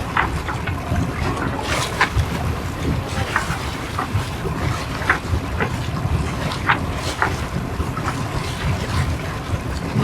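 A sailboat motoring on autopilot across Lake Vättern in Sweden, with a steady low rumble from the engine and hull, gusty wind buffeting the microphone and intermittent splashes and knocks throughout.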